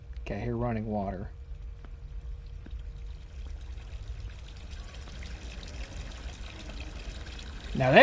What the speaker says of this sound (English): Now there's some good sink water, boy.